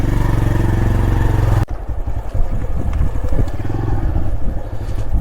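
A motorcycle engine runs with a steady, close, throbbing drone in a narrow stone-stepped village lane in Marpha, then cuts off abruptly, leaving quiet outdoor ambience.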